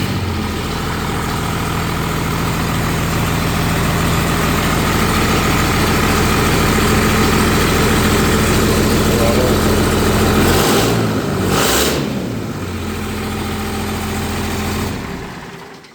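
A 2001 Cummins 24v diesel running with a loud, steady low idle clatter that holds for most of the stretch, then briefly dips and surges before settling and cutting off abruptly at the end.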